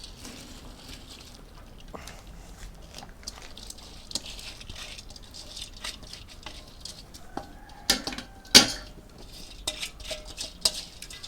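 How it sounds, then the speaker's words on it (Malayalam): Washed, drained basmati rice tipped into a pot of boiling water while cooking chicken majboos: a soft patter of grains with the scrape and clink of a metal utensil, and a louder clatter burst near the end. "തിളച്ച വെള്ളത്തിലേക്ക് കഴുകി ഊറ്റി വെച്ച ബസുമതി അരി ചേർക്കുന്നുണ്ട്"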